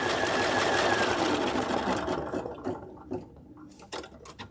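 A sewing machine runs loud and steady while stitching a quilt block, then slows and stops, leaving a few clicks and mechanical taps.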